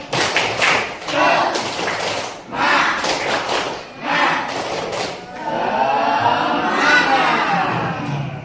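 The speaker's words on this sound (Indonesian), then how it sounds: "Kita tepuk semangat dulu ya." Schoolchildren perform a rhythmic group clap, the tepuk semangat, in bursts of loud, patterned claps and thumps separated by brief pauses, ending in a wash of voices and cheering close by.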